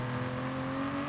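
A car engine in the racing game Forza Horizon 5 holds a steady, full drone with a layered harmonic hum. It is moderately loud and continuous throughout, with no talking.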